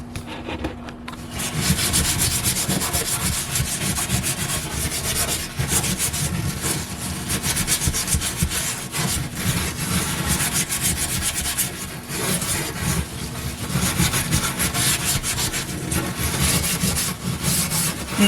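A dirty oven scrubbed with Soft Scrub cleanser and a stainless steel scrubber, close, continuous rhythmic rasping strokes that carry on steadily with brief pauses and no talk.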